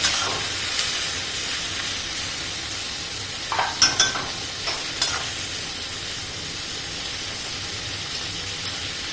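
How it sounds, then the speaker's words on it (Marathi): Tomatoes and cashews sautéing in a pan give a steady close sizzle and hiss throughout, with a few brief scraping stirs near the middle standing out above the frying. "आता हे छान परतवून घ्यायचं आहे आपल्याला. नरम होईपर्यंत परतवून घ्यायचं."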